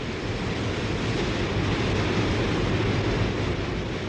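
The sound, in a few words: Victoria Falls waterfall thundering, Zambezi river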